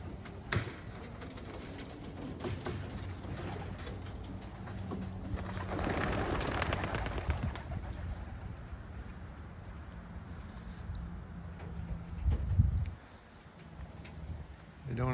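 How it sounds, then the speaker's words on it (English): Pigeons coo softly in low, throaty tones, with bursts of wing flapping and rustling close by amid outdoor background noise. "So I'll let the birds out and see what they do today."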